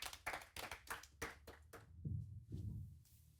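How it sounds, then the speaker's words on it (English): An audience applauds a speaker at a photography talk with a short burst of close hand claps that quickly fades into soft room noise and a few low thumps. "everyone give them a round of applause for their time and for their energy"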